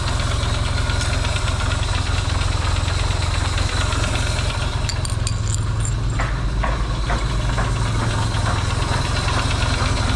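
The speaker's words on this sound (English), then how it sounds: "And it's idling right off the bat." A motorcycle engine built as a zombie apocalypse bike idles steadily up close, with a constant low rumble and a few light mechanical ticks.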